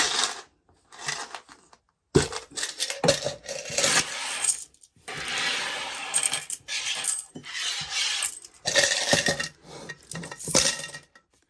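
Coins from a cash-stuffing savings tin tipped out into a pot, a long series of metallic clinks and jangling cascades in bursts with brief pauses, close and fairly loud.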